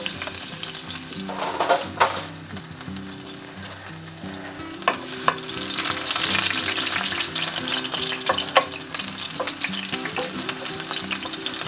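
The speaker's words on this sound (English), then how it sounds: "we're going to saute this garlic" Garlic sautéing in heated extra virgin olive oil gives a bright, steady sizzle, broken now and then by sharper scrapes and taps of a stirring utensil, close up and with no voices.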